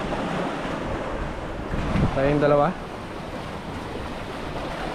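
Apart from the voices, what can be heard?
strong sea waves on island shore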